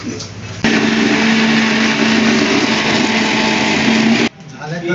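An electric grinder whirs loudly and steadily for several seconds while blending ginger and garlic into paste for biryani, starting and stopping abruptly, with talking around it.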